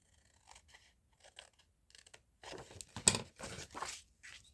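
Scissors trim a small mitered piece from the centre of an old book page: a few quiet, close snips in short bursts, the last ones sharper and louder, with near-silence between.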